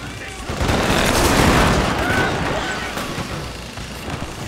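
Massed musket gunfire rolls on in a Shogun 2 battle as dense, continuous crackling volleys with booms, steady and loud throughout.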